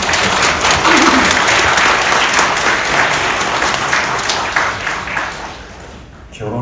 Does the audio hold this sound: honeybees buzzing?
no